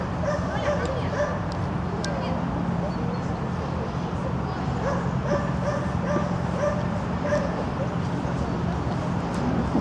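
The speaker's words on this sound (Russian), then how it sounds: "О, овчарочка." A German shepherd dog barks and yips in short bursts across a busy outdoor scene, with steady background noise and people talking throughout.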